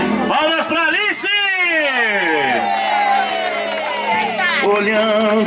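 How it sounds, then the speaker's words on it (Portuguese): Party guests at a 90th birthday celebration cheering and whooping loudly, with sustained shouted and sung voices layered over scattered clapping, close and continuous throughout. "Palmas pra Alice!"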